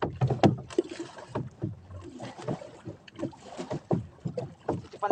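Wooden paddle strokes push a small fishing boat through water with its engine shut off, irregular splashes and knocks close by, with wind buffeting the microphone.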